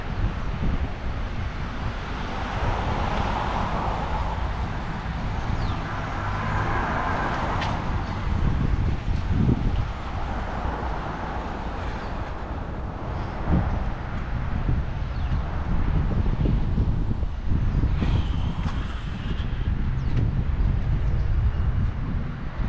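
Steady wind noise buffets the microphone outdoors while someone walks along a street, a continuous broadband rush that holds for the whole stretch with occasional low thumps and faint passing traffic behind it.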